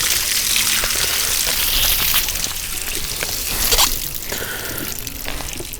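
A plucked bird is swished back and forth in a basin of clear water, giving close, continuous sloshing and dripping with a brief surge of splashing near the middle.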